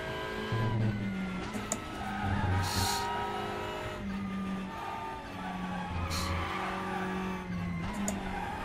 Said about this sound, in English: Lots of squealing, no more speed.